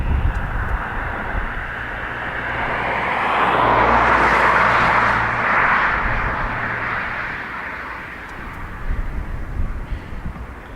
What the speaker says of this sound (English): Next up, EI 160 to London Heathrow, an A320 operated by Aer Lingus.